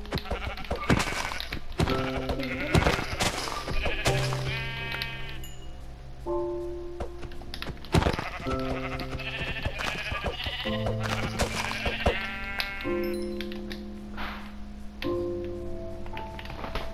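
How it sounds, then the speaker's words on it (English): Sheep bleat repeatedly in the Minecraft video game on PlayStation 4, clear wavering cries coming in several bursts at close range over game background sounds, with no talk. "No, sheep over here."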